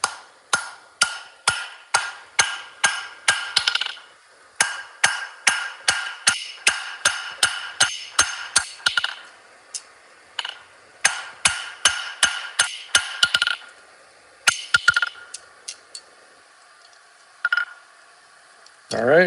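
Sharp, repeated metallic strikes of a hammer on steel being shaped into an icicle, in quick bursts, a steady hammering rhythm with brief pauses between volleys, close and fairly loud.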